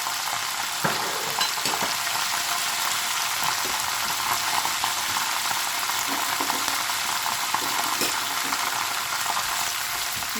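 Dry whole spices, red chilies and nigella seeds fry in hot oil with a steady, close sizzle and crackle, and occasional stirring scrapes sound through the constant hiss.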